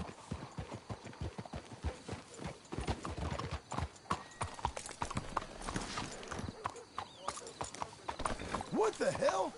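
Horse hooves clip-clop in a brisk, uneven rhythm on a hard surface in the video game Red Dead Redemption 2, with a whinny near the end.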